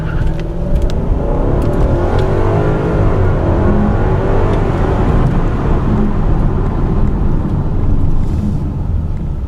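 A 2014 Hyundai Equus engine, 429 horsepower with an 8-speed automatic, revs and pulls hard, its loud steady roar building as the car accelerates, with road and wind noise underneath.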